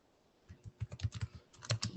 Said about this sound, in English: So I would type it.